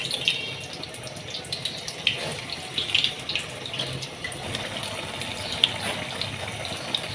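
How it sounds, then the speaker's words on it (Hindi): Potato slices for aloo pakora fry in hot oil with a soft, constant bubbling hiss and scattered light crackles, heard close and on their own without talk. "ये हमारे अच्छे तरीके से फ्राई हो रही हैं।"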